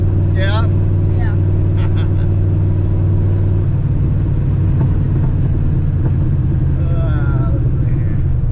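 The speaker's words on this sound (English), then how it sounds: "Can you tell when the turbo kicks in and we're really moving?" A turbocharged Fox body car with a HCI cam accelerating hard, heard from inside as a loud, deep engine rumble rising in pitch, with people talking over it throughout.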